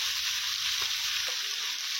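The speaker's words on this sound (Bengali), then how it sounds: "হলুদ দিয়ে যেখানে হালকা ভাজা হয়ে গেছে" Potato pieces with turmeric fry in a pan, a steady bright sizzle heard close and alone, with a couple of soft stirring knocks.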